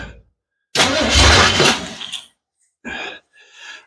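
A square body Chevy truck that has sat unused, cranking for a moment before its engine catches and fires up loudly, then dies off, followed by two shorter bursts of revving.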